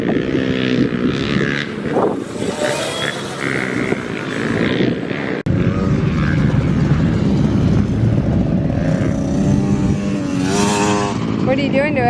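A gas-powered Honda CRF dirt bike engine revs and drones loudly nearby, its pitch rising and falling as it rides, with people talking over it and a sharp knock midway.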